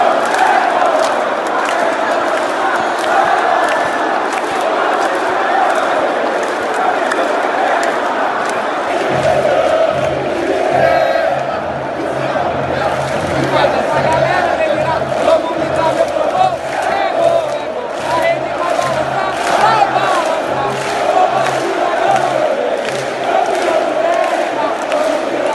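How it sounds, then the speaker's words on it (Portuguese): Vasco football supporters in the Maracanã stadium stands: a loud, sustained roar of crowd singing and chanting, with a steady pulsing beat joining in partway through. "Confere a festa que fez a torcida do Vasco nas arquibancadas do Maracanã."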